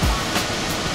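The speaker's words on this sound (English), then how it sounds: "Here is a waterfall." A waterfall in the hills of Campania, southern Italy, gives a steady, full rushing roar of falling water that holds evenly for the whole second with no voices.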